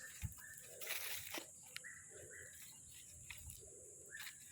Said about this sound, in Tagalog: Pag nandito ka sa bukid guys, di ba may mga ano, ibon na tumutunog.